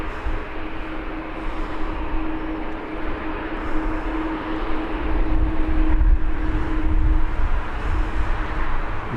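A TUI Dreamliner jet at Birmingham Airport gives off a steady, broad roar with a faint tonal hum, swelling slightly through the middle, heard from a distance with no voices.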